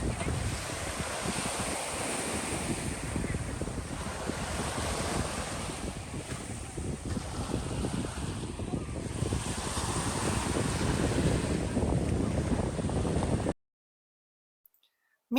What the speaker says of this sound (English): After lunch, I was able to go swimming in the Atlantic Ocean at Jupiter Beach.